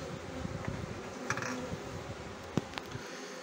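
Honeybees droning in a steady, low buzz around an open hive being inspected, with occasional faint knocks of frames and no voices.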